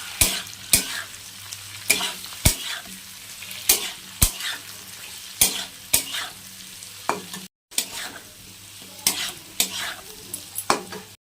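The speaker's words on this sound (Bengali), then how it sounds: "অল্প নেড়ে নিই।" A spoon scrapes and knocks around a pan of amla pickle mixed with black pepper, roasted Kashmiri chili powder and red chili powder. Each sharp stroke comes at an irregular pace, close and clear, with a brief silent break partway through.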